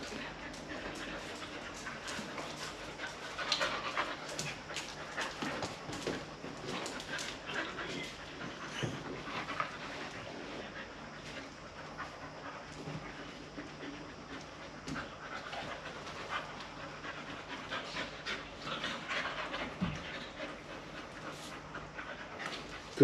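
Dogs panting steadily and rapidly with occasional small whimpers, close by and continuous at a moderate level throughout, in a home in Spain.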